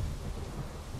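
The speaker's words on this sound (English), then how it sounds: "Is the thunder and lightning gone?" Thunder rumbles through a storm in the video game Minecraft, a steady low roar with rain hiss, continuous and moderately loud throughout.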